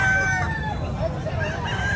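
A rooster crows nearby at a chicken market in Lipa, Batangas, a drawn-out call over faint background chatter and clucking.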